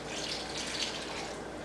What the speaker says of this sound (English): I'm going to have to use water.